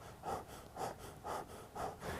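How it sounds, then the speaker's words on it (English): A person breathing in a stressed, hunched-over way, with four loud, rhythmic breaths roughly half a second apart, each audible as a harsh, airy rush close to the listener. "if you are hunched over and stressed out and you're breathing like this"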